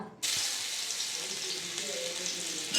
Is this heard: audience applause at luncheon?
no